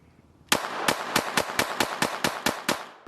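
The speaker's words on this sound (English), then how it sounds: "I'm just going to do a mag dump." Glock 44 .22LR pistol fired in a rapid magazine dump: about ten sharp, loud, close shots in quick, slightly uneven succession, then silence.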